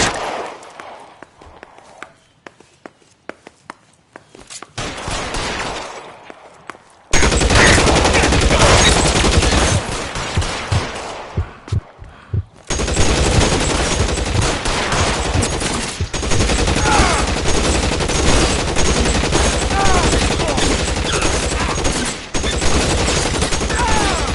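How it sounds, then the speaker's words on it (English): Heavy gunfire in the video game L.A. Noire, a police shootout at 1452 North Las Palmas: dense bursts of rapid shots and volleys that run almost without pause after a quieter opening with scattered single shots. "Shots fired."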